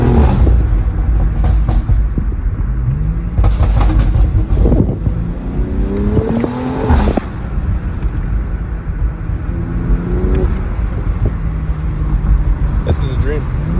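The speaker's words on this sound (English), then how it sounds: "Let me know what you guys think of the new exhaust setup. I think it sounds pretty cool." A BMW X3M with a new cheap exhaust setup rumbles and revs loudly through a couple of rising pulls, with people talking over the engine throughout.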